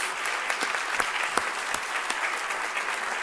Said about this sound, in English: Would you please join me in a round of applause for these individuals?